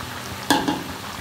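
Pieces of fish, fried after coating in turmeric, salt and chili powder, are dropped into a boiling Bengali fish curry, making a steady sizzle broken by two quick clattering splashes, with no talking.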